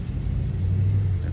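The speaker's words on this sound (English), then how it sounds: "The car just drove by," A car drives past outdoors, its low engine rumble swelling briefly and fairly close, then easing off.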